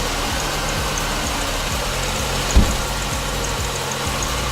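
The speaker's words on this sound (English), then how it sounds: "next thing we're going to do is start the engine" A car engine, dosed with an engine flush treatment during an oil change, idles steadily with a low, even hum and one brief louder knock partway through, close and alone.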